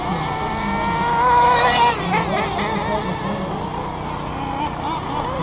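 Several 1/8 scale nitro RC buggies race around a dirt track, their small engines making a continuous high buzzing whine that rises and falls as they pass, loud and close throughout.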